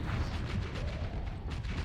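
Heavy explosions and rumbling weapon fire in a space battle video game, a dense, continuous roar of overlapping blasts and booms at steady loudness throughout.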